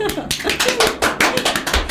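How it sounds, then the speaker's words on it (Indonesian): Studio audience applause, a short burst of close, brisk hand clapping overlapping with people talking. "Tepuk tangan dong"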